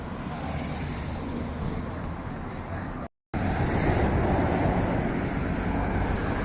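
Wind roars and buffets a microphone while cycling near Hathersage in Derbyshire, a steady loud broadband rush with a brief dropout to silence around the middle before the blowing resumes.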